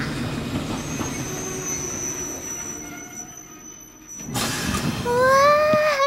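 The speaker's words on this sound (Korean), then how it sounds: "어머, 기차가 들어오네." Cartoon train rolls into a station with steady rumbling and high squealing wheels, then a louder burst of hissing brakes and rising screeches as it pulls up close.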